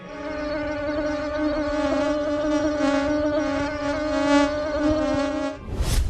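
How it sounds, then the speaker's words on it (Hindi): Mosquitoes swarming in a village market and homes give off a steady, close, high-pitched whining drone that holds for several seconds before breaking off abruptly into a brief noisy burst. "हाट बाजार, चाय की दुकान और घरों में भी हर तरफ मच्छर भिन भिनाने लगते हैं"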